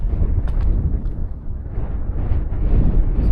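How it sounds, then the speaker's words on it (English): Wind buffets a microphone on an open Lake District hillside, a loud, gusty low roar that rises and falls in uneven surges without pause, with no talk. "It's a bit windy up here."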